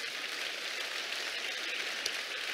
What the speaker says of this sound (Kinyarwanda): Mumfashe tuyikomera amashyi cyane